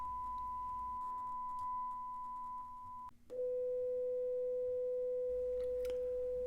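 A steady sine-wave test tone from a loudspeaker holds a higher pitch, breaks off briefly, then resumes lower at 500 Hz and continues pure and unbroken, with no talking.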